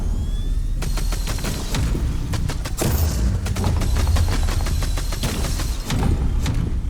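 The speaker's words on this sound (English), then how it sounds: "You just got fucking bullets flying everywhere" Rapid gunfire and bullet impacts fill the VR shooter game VR Invaders, loud dense volleys of sharp cracks with booming thuds underneath, and no speech over them.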